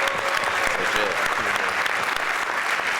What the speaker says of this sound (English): We got 2 claps and a Ric Flair.